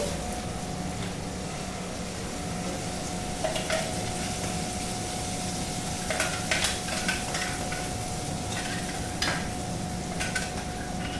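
Onion and ground masala paste fry in oil while being stirred in a pan for a brinjal curry, giving a steady close sizzle with scattered scraping clicks of the spoon throughout.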